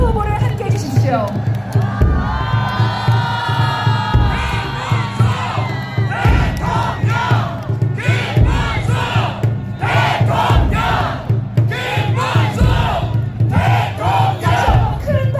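A large outdoor crowd at a Seoul election campaign rally on the eve of voting claps and cheers loudly and continuously, with surging shouts and whoops over sustained applause. An announcer's voice rises above the noise.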